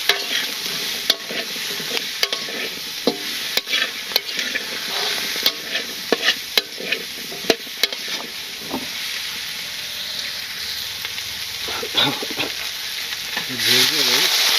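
Vegetable stems stir-frying in a pan for an egg curry, a steady close sizzle with repeated sharp scrapes and clacks of a spatula stirring throughout, and a louder burst of hiss near the end.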